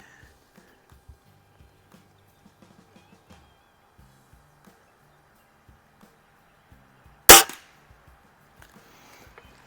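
Diana model 45 spring-piston air rifle firing once, a single sharp crack with a short ringing decay amid an otherwise quiet setting with faint scattered small knocks.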